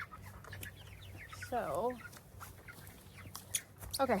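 Young meat chickens cluck in short, quiet bursts from a backyard brooder setting, with a couple of distinct calls heard amid soft talking and handling noises.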